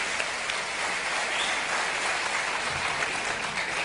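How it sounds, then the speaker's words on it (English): An audience claps for a speaker, a fairly quiet, even wash of applause heard alone without talk. "Give him a clap."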